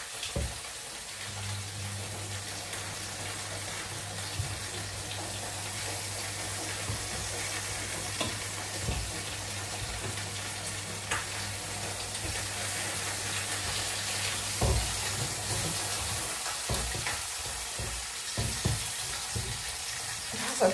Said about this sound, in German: Ich muss mal eben mein Fleisch wenden.